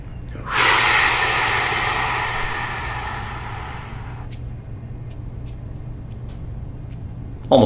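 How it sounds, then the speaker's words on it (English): Box breathing through the nose: one long, steady, fairly loud inhale of several seconds that fades into a quiet hold, with a brief sharp sound at the very end. "So here we go with some box breathing."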